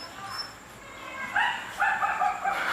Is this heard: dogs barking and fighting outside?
yes